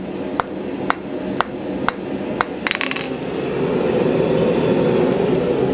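A 2.5 pound rounding hammer rings on hot metal as a ring is forged, five sharp, evenly spaced strikes up close, followed by a rising steady roar of background noise with no speech.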